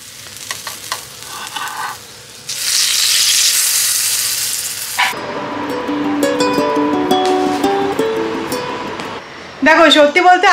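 Pancake batter sizzles in a hot pan with a broad hiss lasting a few seconds, followed by music and voices.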